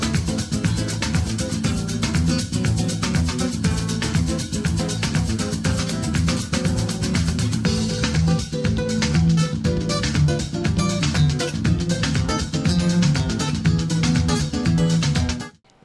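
Full-band music sample played back through Edifier R1280DB 2.0 bookshelf speakers with 4-inch drivers, a dense, steady, loud mix with continuous beats and bass running throughout, no talking.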